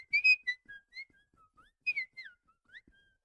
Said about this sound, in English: I'm actually whistling into the microphone